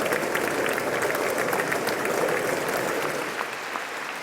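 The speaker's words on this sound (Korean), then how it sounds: "미국 상하원 의원들의 기립박수 속에 의회 연단에 오른" Standing ovation from members of the US Congress greeting a president stepping up to the podium: dense, steady, sustained applause filling the chamber, easing slightly toward the end.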